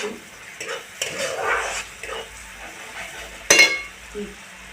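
Egg curry masala roasts in a pan with a soft sizzle while a spoon stirs and scrapes through it, and one sharp clink of the utensil against the pan rings out near the end.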